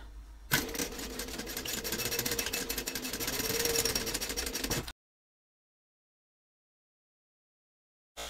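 A sewing machine stitches a 3/8 inch seam at a 3.5 stitch length on a travel-size FoldNZip craft bag, a steady buzzing run of about four seconds that stops abruptly, followed by silence.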